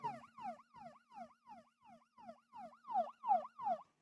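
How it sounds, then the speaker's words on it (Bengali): A mobile phone's anti-theft siren alarm, set off when the phone is touched, repeats a falling electronic wail about three times per second, a dozen cycles in a row, fairly quiet and with no talking. "আমি মোবাইল টাচ করার সাথে সাথে কিভাবে সাইরেন শব্দ হলো"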